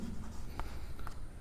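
Pen or marker writing during a physics lecture on forces between parallel current-carrying wires, a couple of brief scratchy strokes over a steady room hiss, no voices.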